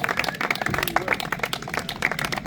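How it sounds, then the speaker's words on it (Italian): At an outdoor kart racing awards ceremony, scattered clapping greets the second-place finisher, uneven and moderate in volume, with crowd murmur mixed in. "Un applauso."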